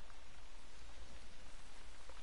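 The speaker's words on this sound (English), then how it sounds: "It just started raining." Rain pours down in a goose-hunting video game, a steady, dense patter of drops with no other sounds or speech.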